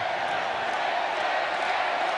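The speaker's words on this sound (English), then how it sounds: "As the crowd roars" A rugby sevens stadium crowd roars in a steady, dense wall of noise, loud and sustained throughout with no pauses or distinct voices rising out of it.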